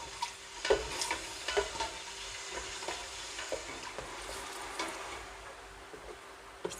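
Beef massaman curry with coconut milk stirred in a pan, soft scrapes and gentle sizzling at an even pace, close but quiet, with a few sharper knocks of the spoon and no talking.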